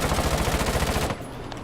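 A gun in a video game fires a rapid burst of rounds, a dense rattling stream of loud close shots lasting about a second, then cutting off abruptly into a quieter tail of faint clicks.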